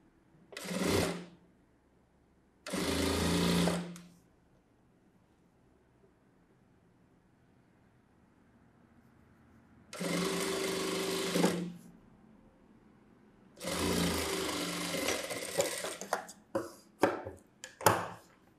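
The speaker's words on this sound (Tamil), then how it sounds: "இப்போது இந்த பெல்ட் பீஸில் தையல் போடுறேன், எஜ்ஜு தையல் போடுறேன்" Sewing machine running in several bursts while edge-stitching a blouse belt piece, short whirring runs separated by quiet pauses, with a few quick taps and clicks near the end.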